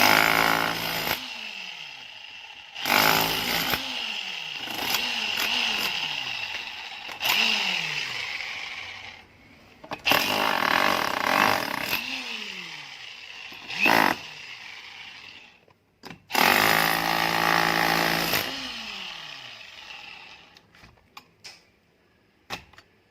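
A JLD J28-1 hammer drill bores into a wall in several loud, harsh bursts, each followed by a falling motor whine as it spins down, with short quiet gaps between runs.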